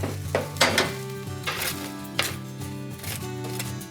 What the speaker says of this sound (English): we'll get our veggies into the pan